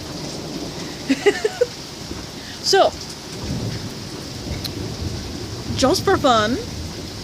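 Heavy rain pours steadily with rumbling thunder building toward the end, while a person speaks briefly over the storm.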